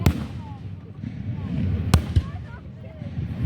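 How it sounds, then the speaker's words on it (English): Fireworks bursting close by over water, with two sharp loud bangs standing out above a steady crackling, rumbling background and some distant whistles. "the fireworks are falling into the water"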